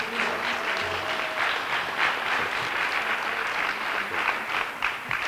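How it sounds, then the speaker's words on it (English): An audience at a school board of education meeting claps in steady, sustained applause that fills the room for several seconds. "can everybody give Mrs. Franklin a nice round of applause"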